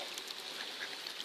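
Ducks, both male and female, quack at a park pond alongside swans and a coot, a faint, busy wash of calls in open outdoor air.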